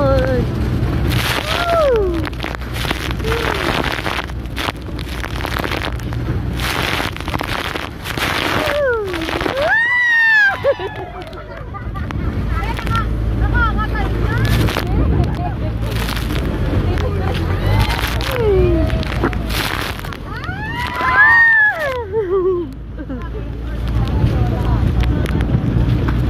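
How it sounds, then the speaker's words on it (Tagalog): Big sea waves surging and splashing around a boat while island hopping off Boracay, a loud continuous wash of water and wind with repeated engine-like swells, and people talking over it throughout. "Ang laki ng alon."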